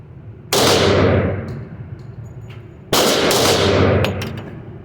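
Two loud gunshots from a Girsan Untouchable 1911 pistol, spaced a couple of seconds apart, each a sharp blast ringing out into a long echoing decay outdoors.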